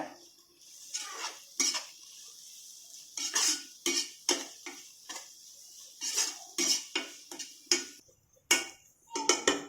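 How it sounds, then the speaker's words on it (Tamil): Spoon scraping and clinking against a pan as potato fry is stirred together with vegetables, a steady run of sharp, close metallic ticks and scrapes in irregular bursts with no talking. "உருளைக்கிழங்கை எடுத்து அந்த காய்கறி கூட சேர்த்து நல்லா கிளறி விடுங்க"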